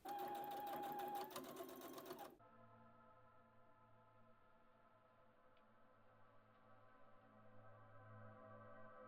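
A sewing machine stitches a sleeve hem to a cuff for a jacket, a fast, steady mechanical hum for about two seconds that cuts off abruptly, leaving a quiet low electrical drone.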